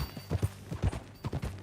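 Horse hooves clip-clop at a walking pace in Red Dead Redemption 2, several soft rhythmic thuds in pairs, fairly faint and close with no talk.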